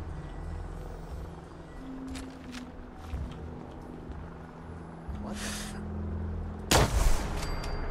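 A gun firing in the video game Fallout 4, with scattered shots and thuds over a rumbling background and a loud, sharp blast near the end.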